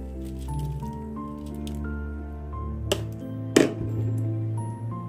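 Soaked, washed rice drops into reduced, simmering milk in a pot, giving wet squishing and bubbling with a couple of sharp clinks of a utensil against the pot.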